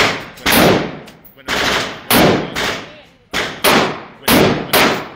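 An MP5 firing at a gun range: loud, close bursts of automatic gunfire come in a rhythmic series of sharp reports, each burst separated by a short gap.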